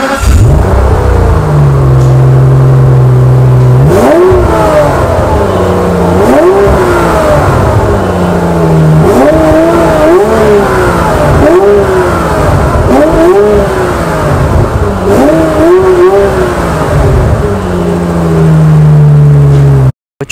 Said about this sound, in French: Je vais juste vous laisser écouter la magnifique symphonie orchestrée par ce V12.